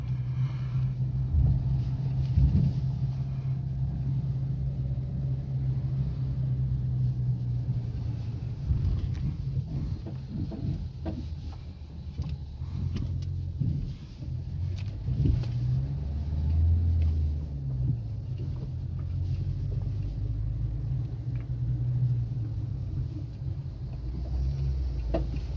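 Low, steady engine rumble and road noise heard from the back of a tow truck carrying a broken-down car, a continuous droning hum with occasional bumps and rattles and no talking.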